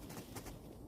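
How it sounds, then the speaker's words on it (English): Faint pigeon or dove cooing outdoors, soft and low, heard briefly at a distance. "I can hear some birds coming around right now."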